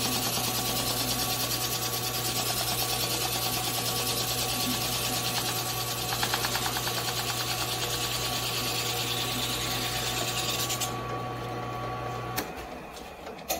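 A sanding disc mounted in a drill press sands a piece of wood, giving a steady, loud motor hum with a rasping abrasive whir. Near the end the drone cuts off and winds down.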